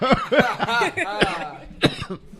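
Several sharp coughing bursts, close and fairly loud, mixed with voiced, laugh-like sounds in quick succession.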